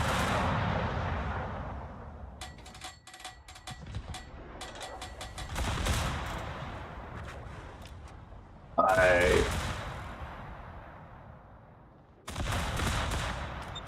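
Naval gunfire aimed at a destroyer in World of Warships, heard as heavy volleys and rattling salvos that arrive in separate loud bursts, with quieter rumbling stretches between them.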